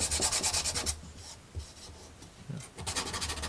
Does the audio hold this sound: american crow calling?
no